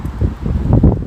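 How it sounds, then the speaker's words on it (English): Wind buffeting an unshielded microphone on top of a bridge, a loud low rumbling gusty roar over about a second. "Yeah, it's a bit windy here."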